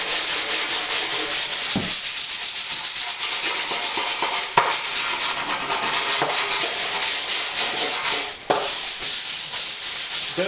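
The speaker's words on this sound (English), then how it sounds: "all I've got to do now is get a piece of sandpaper here, a block of wood" Sandpaper wrapped around a wooden block rubs back and forth over a wooden pottery wareboard, a steady rhythmic rasping of close, even strokes with a few brief pauses.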